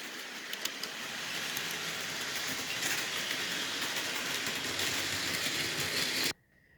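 Model goods train setting off, a steady mechanical rolling whir with faint clicks that continues evenly, then cuts off abruptly near the end.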